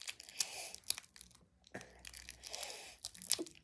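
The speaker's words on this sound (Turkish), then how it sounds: "Poşetini yırttım." Crinkly plastic wrapper of an orange-flavoured candy being torn open, with bursts of crackling and ripping noise in short separate rustles, close to the ear and fairly quiet, without talk.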